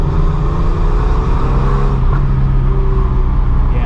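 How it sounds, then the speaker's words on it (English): A Porsche 993 C4 exhaust comes off high revs in second gear, a loud, close, guttural drone winding down with low rumbling tones inside the car. "When I back off in second from high revs,"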